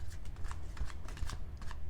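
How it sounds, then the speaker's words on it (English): Tarot cards are shuffled by hand at an awkward angle, producing soft papery riffling and rustling bursts in quick succession, close and fairly quiet. "It's awkward to try to shuffle here at this angle."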